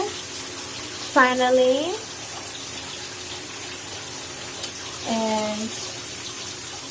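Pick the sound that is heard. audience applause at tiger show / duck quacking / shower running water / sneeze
shower running water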